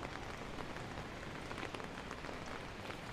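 Steady rain falling at a Sapa waterfall tourist spot in Vietnam during the rainy season: a dense, even hiss of drops spattering on surfaces, with no breaks and no voices, moderately quiet and constant.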